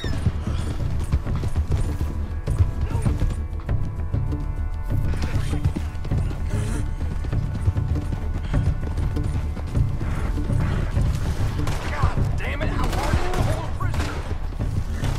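Steady clip-clop of horse hooves in Red Dead Redemption 2, with game noise, occasional gunshots and a voice talking over it.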